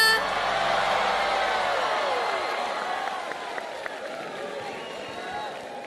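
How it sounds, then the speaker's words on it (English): A large crowd at the Miss World 2025 pageant roars and cheers as India is announced. The broad, loud cheering gradually fades. "I think I already hear the crowd."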